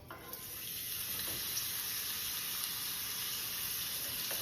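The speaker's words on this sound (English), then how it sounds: "Okay, so our pan is nice and hot now. And so I'm looking for that sizzle." Steady, hissing sizzle of pork chops frying in a hot pan, constant and fairly close, with a few faint clicks and no talking.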